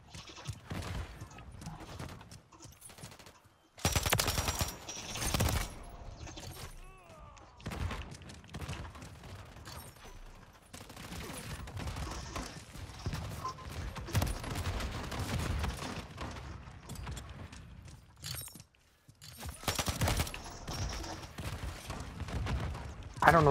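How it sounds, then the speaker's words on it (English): Grenade launcher explosions in Call of Duty Modern Warfare 3 on the Shipment map, heard as repeated loud blasts and bursts of gunfire in irregular clusters. Quieter gaps fall between them, and some game voice sits underneath. "all those explosions are people just lobbing grenades out of this stupid noob tube all over shipment"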